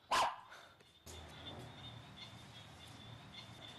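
A puppy during dog circus training lets out one sharp, loud bark right at the start, followed by a steady hum of background noise with no further barking.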